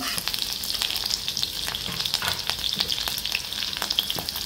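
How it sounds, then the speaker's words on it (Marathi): Garlic and green chili frying in oil in a pan, a constant close sizzle dotted with quick crackles and spits, steady and moderately quiet with no voices. "लसूण छान परतून घेऊ आपण। आपलं लसूण छान परतलं आहे, यात मी मिरची घालते"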